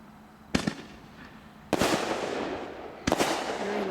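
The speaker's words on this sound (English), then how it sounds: "Very large breaks in the sorted shell. That was the outclass shell." An outclass artillery firework shell bursting at a demonstration: three sharp, loud reports spaced about a second apart, each followed by a crackling, rumbling tail that lingers before the next bang.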